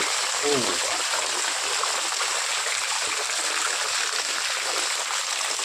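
Heavy rain falls over a village square while floodwater flows, making a steady, dense rushing wash that stays loud and unbroken from start to finish.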